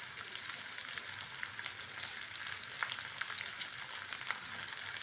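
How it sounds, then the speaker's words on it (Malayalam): Chopped carrot and curry leaves sautéing in a pan, a soft continuous frying hiss with a few faint crackles and light stirring taps, close but quiet, with no talking. "കുറച്ച് ഉപ്പുപൊടി കൂടെ ഇട്ട് വഴറ്റി എടുക്കണം"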